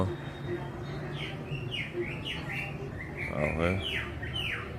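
A fallen baby sparrow lets out a run of short, high chirps in quick bursts, close by, while a person speaks softly over them.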